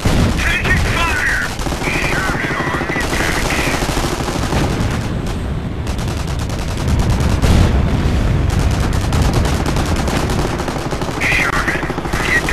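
Rapid machine-gun bursts and booming blasts fill a World War II battle in the Company of Heroes video game, loud and nearly constant, with shouted voices breaking through.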